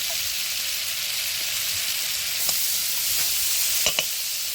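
Drumsticks frying in spice paste in a pan, a steady loud hiss and sizzle of hot oil with a few faint clinks and stirring taps scattered through.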